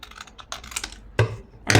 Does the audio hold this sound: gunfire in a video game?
no